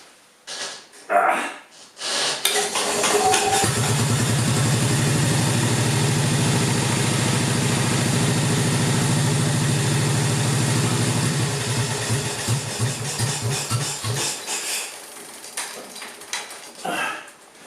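A Moto Guzzi Falcone motorcycle, after a starter fix, fires up on the first try and settles into a steady, loud, low idle that later fades to sputters and stops, with brief handling noises before and after.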